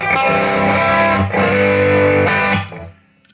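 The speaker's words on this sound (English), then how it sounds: "High gain distortion." An electric guitar, a Schecter Nick Johnston HSS Strat-style model, played through a Chase Bliss high-gain distortion pedal, rings out in loud, thick sustained chords that change twice and then fade out, with no talk.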